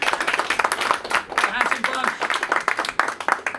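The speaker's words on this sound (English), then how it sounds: "Can we give him a warm round of applause, please?" An audience claps steadily, a dense warm round of applause with a voice briefly heard over it.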